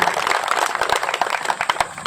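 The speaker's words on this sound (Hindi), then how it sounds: "एक बार मोदी जी के लिए जोरदार ताली बजाएं।" A crowd at a political rally claps for Modi in a steady, dense patter of applause that runs through the whole stretch with no voices on top.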